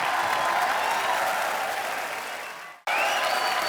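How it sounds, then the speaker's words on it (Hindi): A TV comedy show audience claps loudly in a dense burst that tapers off, then a fresh wave of applause starts up again right after a brief break. "जोरदार तालियों से स्वागत कीजिए"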